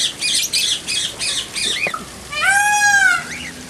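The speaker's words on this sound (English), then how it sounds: "these are all parrots of various shapes and sizes." Parrots of various shapes and sizes at the entrance of the KL Bird Park squawk in a run of harsh, rhythmic calls, then one long wavering shriek, loud and close with no talk.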